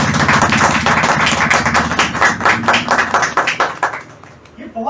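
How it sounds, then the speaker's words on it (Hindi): A small audience at a herbal store gathering claps loudly and rhythmically close by, a fast run of sharp hand claps that thins out and fades near the end, with a voice underneath. "अपने लिए एक बार जोरदार ताली होना"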